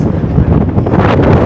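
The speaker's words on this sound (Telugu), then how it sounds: "గాలి అంత విపరీతంగా పెడుతుంది" Strong wind buffets the microphone outdoors at night in a village, a loud continuous roar of gusts filling the whole moment with no clear voices.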